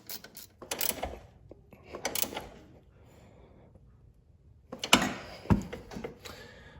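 A ratcheting wrench tightens a control arm bolt during a lowering spring install on a Fiat 124 Spider Abarth, giving several short bursts of clicking with pauses between, close and clear.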